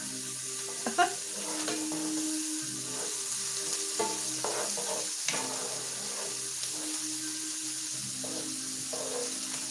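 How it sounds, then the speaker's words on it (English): Spiced potatoes and onions frying in a skillet over medium heat, a steady close sizzle broken by occasional scrapes and clicks of stirring, with a faint tonal hum underneath and no talk. "Adjust the heat to medium and continue cooking, stirring often."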